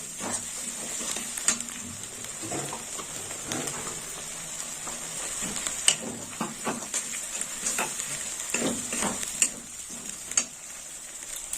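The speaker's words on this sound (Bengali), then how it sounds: "মশলাটা ভালো করে কষে নিই।" Spice paste and onions for mutton curry being stir-fried in a pan, a steady sizzle with repeated scraping and clinking of a spatula against the pan, close and continuous.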